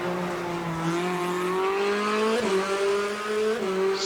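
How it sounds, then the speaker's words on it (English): A Fiat rally car races along a stage in the Mecsek Rally, its engine holding a steady, rising note through gear changes, loud and continuous with brief shifts around two points. "So instead of the Peugeot, he's driving the Fiat now, and we're back with Ivan."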